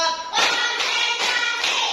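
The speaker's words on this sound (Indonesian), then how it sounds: "Tepuk 1, tepuk 2, tepuk 3, tepuk 4," A class of pupils claps together in time to a count, four sharp, evenly spaced group claps about half a second apart, loud and close in a classroom.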